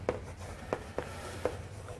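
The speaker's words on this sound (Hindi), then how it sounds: "चलो इसको एक कलर में लिखते हैं।" A coloured pen writes on a board during a biology class lecture, making four short, faint scratchy strokes spaced unevenly over a quiet room background.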